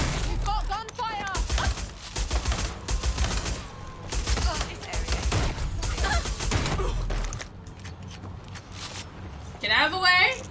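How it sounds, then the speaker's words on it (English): Bursts of rapid gunfire in Watch Dogs: Legion, some sustained and some short, with voices talking over the shooting throughout. "We've got gunfire."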